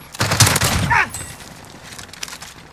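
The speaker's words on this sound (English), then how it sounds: "Under hostile fire." Gunfire in the video game Call of Duty Warzone: a loud burst of rapid shots in the first second, followed by scattered fainter shots and game effects, with a voice briefly over it.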